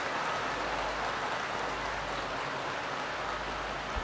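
Steady rain falls continuously during an outdoor Guru Purnima spiritual gathering, a dense even hiss with no breaks and no voices, moderately loud.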